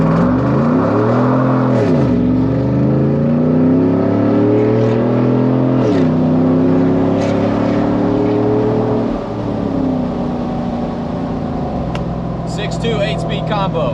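A Chevrolet Silverado truck with a 6.2 V8 and 8-speed transmission accelerates hard from inside the cab with the windows down, the engine rising and dropping through several gear shifts, loud and steady throughout.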